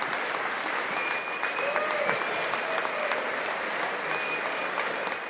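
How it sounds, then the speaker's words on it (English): Sustained applause fills a large hall at Donald Trump's State of the Union address, a steady dense wash of clapping from a big crowd, loud and continuous with no break. "Now they're going to clap for another 45 minutes."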